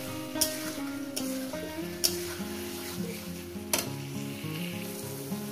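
Catla fish curry masala sautéing in a pan, a steady close sizzle with repeated scraping stirs and a few sharp clinks of the spatula against the metal.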